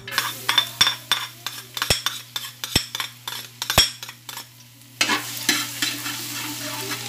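Garlic frying in hot oil for Kapampangan fried rice, stirred briskly with a metal spatula that scrapes and clinks rhythmically against the pan over a steady close sizzle, with no voices.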